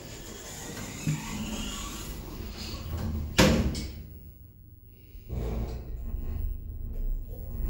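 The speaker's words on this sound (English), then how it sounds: "Doors closing." The doors of a 2010 Stannah lift on a railway station platform close with a sharp thud after a mechanical hum, then the hum quiets before the motor starts up again.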